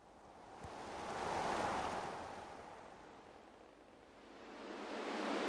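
Continuous soft wash of flowing water that swells and fades, with no voices, heard alone at moderate distance.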